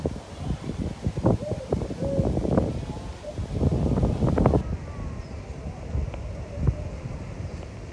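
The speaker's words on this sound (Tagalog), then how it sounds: "malakas na yung hangin" Strong wind blows outdoors near Tai Mei Tuk in Tai Po, Hong Kong, a gusty rumble buffeting the microphone in waves of louder and softer rushes, continuing after an abrupt drop in high-end hiss midway.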